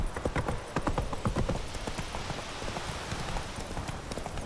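Horse hooves clip-clop in a steady trotting rhythm while riding in The Witcher 3, close and clear at first, then continuing more softly under a busy game background.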